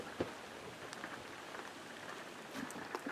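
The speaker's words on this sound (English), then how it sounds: "as soon as we pulled in, it started raining." Steady soft rain patters on a surface, with a few louder drops tapping now and then; no voices. Rain at a campsite at Lincoln Pond State Park in the Adirondacks.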